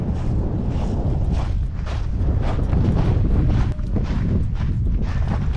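Strong gusts of wind at the highest point of a hike in Cañadas del Teide, Tenerife, buffet the microphone with a loud, continuous roar that swells and dips in short waves.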